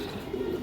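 Domestic pigeons of an old breed, kept in a loft and currently moulting, give a soft, low continuous cooing that sits close and moderately quiet, with no talk.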